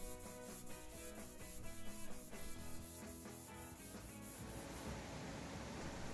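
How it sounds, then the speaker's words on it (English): A hand sander with 400 grit paper smooths a wooden end-grain cutting board, producing a faint, steady scratchy rubbing with a quick back-and-forth rhythm and no voices. "I went with a hand sander and hit the boards with 400 grit"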